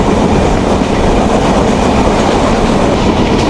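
Onboard the Benapole Express between Faridpur and Dhaka in Bangladesh, the train rumbles loudly and constantly, a dense close roar of wheels on rail with faint rhythmic clatter throughout.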